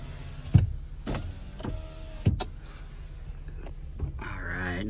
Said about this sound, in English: cruise control, power windows